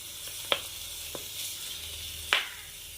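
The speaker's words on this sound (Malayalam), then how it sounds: "ഒരു പാനിലോട്ട് നമ്മൾ കുറച്ച് എണ്ണ ഒഴിച്ചിട്ട് ആ ഉണക്കമീൻ ഒന്ന് വറുത്തെടുക്കുവാണ്." Dried fish fries in oil with a quiet, steady sizzle, punctuated by a few sharp isolated pops and spits.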